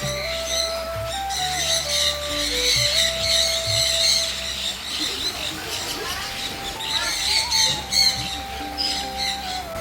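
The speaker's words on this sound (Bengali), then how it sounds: "পাখিগুলো এইভাবে উড়ে উড়ে আসছে আর আপনার কাঁধে, হাতে, মাথায় বিভিন্ন জায়গায় বসছে, আবার উড়ে চলে যাচ্ছে।" Birds at a bird park in Ooty squawk and chirp constantly and loudly nearby as they fly around and land on visitors, with a crowd murmuring and faint tones and background noise underneath.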